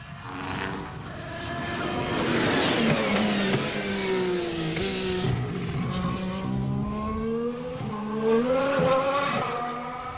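A 2014 Formula 1 hybrid race car accelerating at pre-season testing in Jerez, its high engine whine climbing through rising, stepping pitch sweeps as it passes near and fades, with faint crowd or track ambience beneath.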